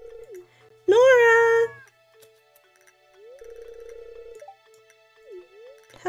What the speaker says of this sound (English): She just meowed from the other room.